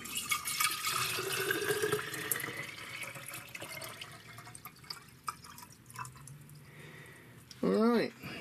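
Water poured from a measuring container into a 32 oz stainless steel bottle, a steady liquid splash and trickle filling the vessel, with a person talking over it and a brief louder clatter near the end.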